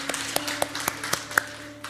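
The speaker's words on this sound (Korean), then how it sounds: "우리 하나님께 감사의 박수를 드리겠습니다." Sparse church congregation applause after a sermon, a few scattered individual claps at uneven intervals, fairly faint and close with a low room hum underneath.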